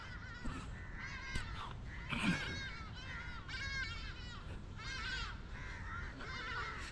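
A group of house crows caws repeatedly in harsh, overlapping calls in Durban, moderately distant, with a steady outdoor background and no voices.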